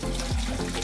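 Warm water runs from a tap while a dog is bathed for the first time, a steady close splashing flow with a brief gurgling shift partway through and no voices.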